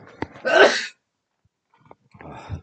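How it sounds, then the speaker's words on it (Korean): A single sharp sneeze, loud and close, followed by a short pause and then a quieter breathy exhale. "밤이 되니까 재채기가 나오기 시작하네요"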